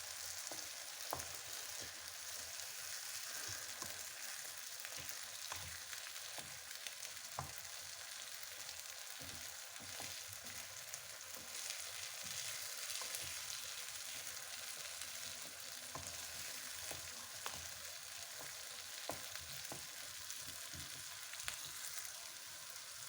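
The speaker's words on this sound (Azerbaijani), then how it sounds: "Qarışdırırıq ki, qıraqlara tökülməsin." Tomato, egg and onion fry in a small pan while being stirred: a steady, soft sizzle runs throughout, dotted with light scraping clicks from the utensil, with no voices.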